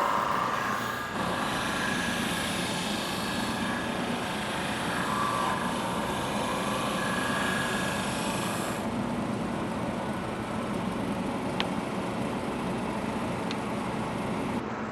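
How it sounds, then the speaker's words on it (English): A drum sander runs steadily with a broad, continuous whirring roar as segmented wooden rings pass lightly through it at 3/4 inch depth, the tone shifting slightly partway through before settling. "we pass these through just so we can hear it lightly sanding"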